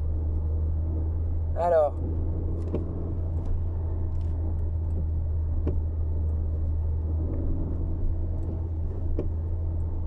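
Petrol Citroën Xantia Exclusive with a 136 hp engine driving along, a steady low engine and road rumble throughout, with a person speaking briefly early on.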